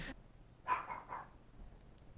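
A small dog barks a few times from another room, the quick yaps soft and somewhat distant over low background hiss.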